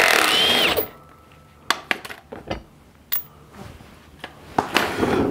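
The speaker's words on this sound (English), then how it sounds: "those drills do a great job of speeding things up" A Milwaukee power drill drives bolts while Rough Country flat tow brackets go onto a Ford Bronco. Two loud whirring bursts open and close the clip, with sharp metallic clinks and taps between them and no talk.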